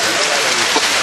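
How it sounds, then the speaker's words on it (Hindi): Heavy rain pours down on an outdoor mushaira poetry gathering, a loud, dense and constant hiss that fills the whole moment. "इतनी तेज़ बारिश के बावजूद"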